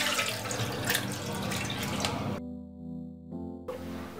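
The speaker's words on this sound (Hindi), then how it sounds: "इसके बाद इसको हम छाननी में छान लेंगे." Soaked poha is drained through a kitchen strainer, giving a close, steady rush of running water for about two seconds before it cuts away, with a short burst returning near the end.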